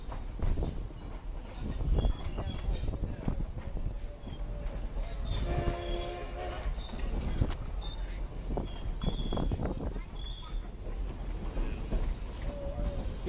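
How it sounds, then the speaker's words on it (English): Durango and Silverton steam train turning, a loud continuous rumble of wheels and cars on track with a brief horn-like tonal blast mid-way and clacking throughout. "Because you'll see the train turning."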